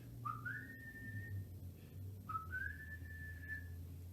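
A person whistles in imitation of a broad-winged hawk's call, two clear rising whistles that each slide up and then hold steady, fairly soft over a quiet low background hum.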